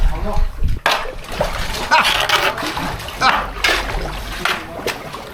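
A kayak paddle splashes and dips in water in a series of uneven, close strokes, with a sharp knock at the start, while people talk over the sloshing.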